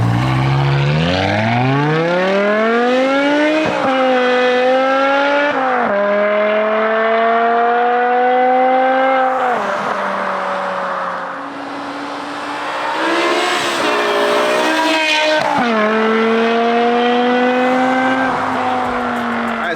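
A BMW E60 M5's V10 engine roars continuously through its exhaust, its high-revving pitch climbing and dropping through repeated gear changes as the car accelerates, loud and close throughout.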